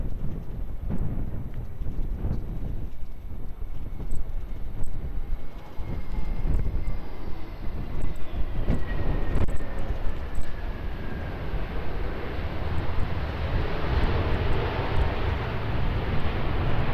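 An airplane on runway 20 at Lisbon Airport gives a sustained engine rumble with a faint whine sweeping downward, over steady wind-buffeted background noise at moderate distance.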